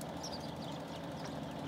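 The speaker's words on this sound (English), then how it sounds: "I love hearing those birds." Game birds chirp in the ambient soundscape of Farming Simulator 17 on the Lone Oak Farms map, scattered high calls over a steady low drone of farm machinery, continuous and fairly quiet.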